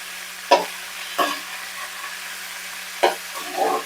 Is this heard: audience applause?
no